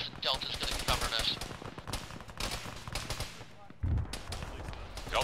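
Rapid bursts of gunfire and machine-gun fire in the military game Arma during a snowy ShackTac operation, dense overlapping shots near and far, with voices talking underneath.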